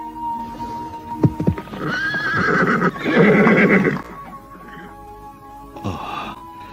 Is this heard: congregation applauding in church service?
no